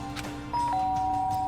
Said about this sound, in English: There's a doorbell next to the door.